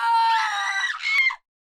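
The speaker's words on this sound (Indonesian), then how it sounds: "teriakannya memekak memenuhi seisi bangunan" A woman shrieks as a vampire bites her neck, one long, loud, piercing scream that wavers and then cuts off abruptly into silence.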